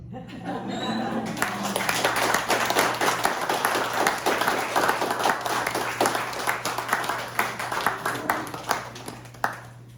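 An audience at a live storytelling event applauds warmly, a loud sustained clapping with distinct individual claps standing out, a low steady hum underneath and a few voices and chuckles mixed in.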